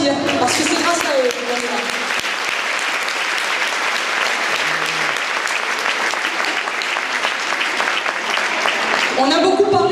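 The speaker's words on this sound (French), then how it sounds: "Permettez-moi de vous demander de les applaudir, parce que c'est grâce à eux." A large audience at an evening event applauds the volunteers with sustained, dense clapping that fills the hall, loud and steady throughout with brief voices at the edges.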